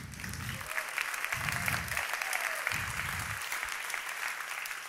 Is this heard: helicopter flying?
no